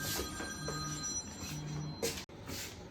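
Phone rings faintly in the distance inside a workshop where cabinets with granite tops are being installed, a thin repeating ring over steady room noise.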